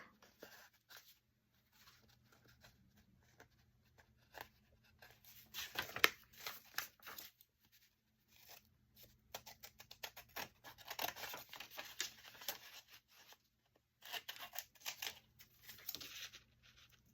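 Scissors snip quietly through paper while trimming pages for a handmade mini book, giving a scattered run of soft cuts, rustles and crinkles at close range.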